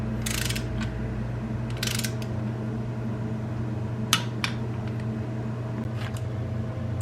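A torque wrench clicks and ratchets on the oil pan bolts of an LS engine, sharp bursts standing out at intervals over a constant low mechanical hum, close by and with no talking.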